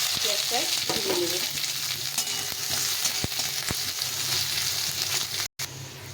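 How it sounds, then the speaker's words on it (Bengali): A bowl of chopped onions frying in hot oil, with a steady broadband sizzle and a few stirring clinks and taps, continuous and close. "এখন এই তেলের মধ্যে আমি এক বাটি পেঁয়াজ কেটে রেখেছি, পেঁয়াজটা ভেজে নেব।"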